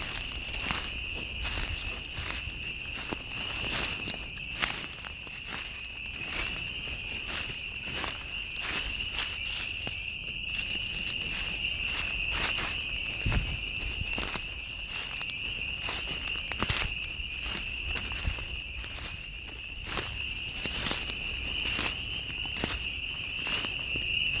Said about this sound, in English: I'll let the frogs speak as we get closer.